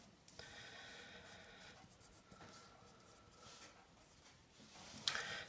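A pen scratching steadily across paper while triangles are drawn for a maths exam question, close and continuous with soft strokes and a brief sharper tap near the end; no one speaks.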